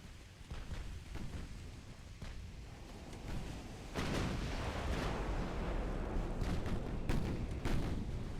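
Heavy warship main guns firing in a naval battle between British and French fleets of 1899, a dense, continuous barrage of deep booms and rumbling blasts with louder volleys building in the second half, no talking.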